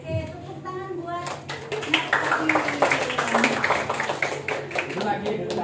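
A group of children and an adult clapping hands together in a classroom activity, a lively run of overlapping claps following a brief sung phrase, with voices speaking and calling out over the clapping.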